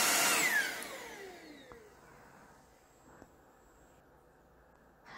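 A Dibea X10 Plus cordless stick vacuum cleaner starts with a loud, high motor whine that quickly winds down in pitch. A faint hum and a few light clicks follow in near-quiet.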